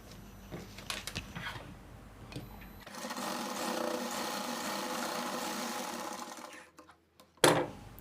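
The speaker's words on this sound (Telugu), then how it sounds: "ఇక్కడ 1/4 ఇంచు మార్జిన్ నుంచి ఇక్కడికి ఇలా కలిపేసి స్టిచ్చింగ్ అన్నది ఇలా చేసేస్తాం" A sewing machine stitches a blouse lining along a quarter-inch margin, with a few light clicks at first, then a steady close mechanical whir for several seconds that stops with a sharp knock.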